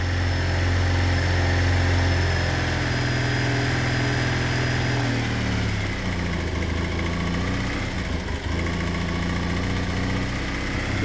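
A Yamaha XTZ750 motorcycle idles from a cold start with the choke on, a steady low engine rumble that continues throughout, its pitch shifting slightly partway as the idle settles.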